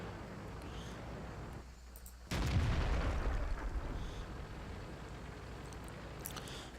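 In World of Tanks, a tank gun fires at a destructible truck: a single sharp, loud cannon blast after a brief lull, followed by a rolling rumble and debris that fades over a few seconds amid steady engine and ambient battle noise.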